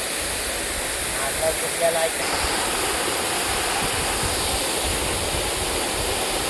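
A jungle waterfall roars with steady, loud, broadband rushing water that fills the scene and nearly masks brief faint voices.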